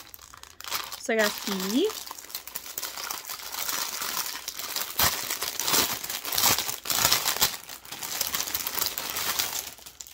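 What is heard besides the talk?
crinkling of cross-stitch kit plastic packaging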